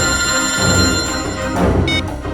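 A telephone rings with a bright, steady electronic tone that is loud and close and lasts throughout.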